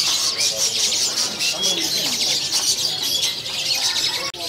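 East Java pentet shrikes calling from cages at a bird kiosk, a dense continuous mass of harsh squawks and chirps, loud and close, with a sharp knock near the end.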